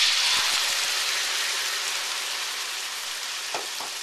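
Sauce for orange chicken is poured into a hot wok and sizzles loudly and continuously, a dense hiss that slowly eases, with a few light clinks of stirring near the start and end.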